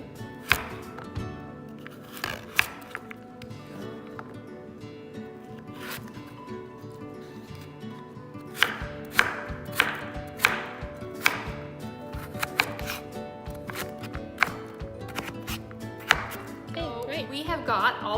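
A carrot chopped with a knife on a cutting board into coarse pieces for vegan noodle soup, the blade striking the board in uneven bursts of crisp taps, sparse at first and then quicker and denser.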